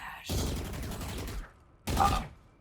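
Bursts of automatic gunfire from the Valorant video game in a Turkish competitive match, one long volley followed by a shorter one after a brief pause, loud and close.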